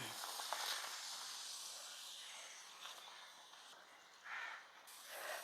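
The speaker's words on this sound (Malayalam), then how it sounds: "പാകത്തിന് നമ്മൾ പപ്പടം പൊള്ളിക്കാനുള്ള എണ്ണ ഒഴിച്ച് പപ്പടമൊക്കെ പൊള്ളിച്ചെടുക്കാം" Papadam frying in hot oil in a home kitchen gives off a steady, faint, broad hiss and sizzle that swells briefly twice toward the end, with no voices.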